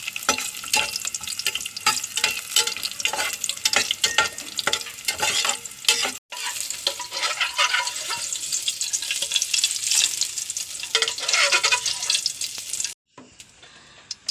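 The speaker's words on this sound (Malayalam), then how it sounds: "മുന്തിരി ഇതിലിട്ട് വറുക്കണം" Raisins sizzle and crackle in hot oil in a pan, with brief stirring scrapes. There is one short break in the middle and another near the end.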